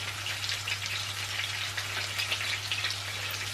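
Onions sizzle and fry in a pan for chicken curry, giving a steady, crackling hiss over a low, constant hum, close and moderately loud.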